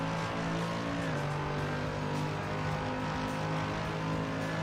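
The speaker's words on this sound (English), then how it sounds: "Actual engine sounds surprisingly good with this car." A race car engine from the Assetto Corsa Competizione racing game drones continuously at high revs, loud and close, its pitch dipping briefly as it shifts and then holding steady with no talking.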